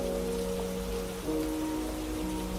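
Steady rain pours over Calathea houseplants sitting outdoors in humid, overcast weather, a soft even hiss of droplets with no voices.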